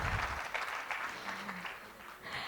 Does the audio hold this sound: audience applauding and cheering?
yes